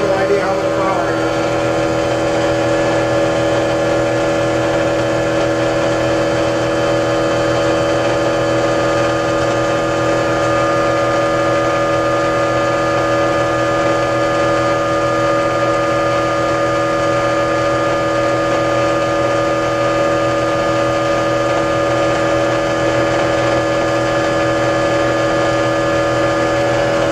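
A motor-driven generator runs steadily under a load of 100-watt light bulbs, droning with a constant loud hum and whine that holds an even pitch for the whole stretch, with no clear slowdown.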